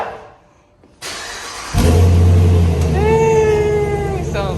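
A 2022 Dodge Durango with a Corsa catback exhaust cranks and fires up, settling into a deep, loud idle rumble with a rising whine as it catches, heard up close.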